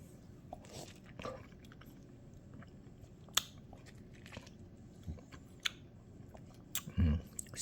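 Someone cuts into and bites a ripe imported Kesar mango, with soft close squishes, a knife tap and wet chewing, quiet and intermittent under room noise.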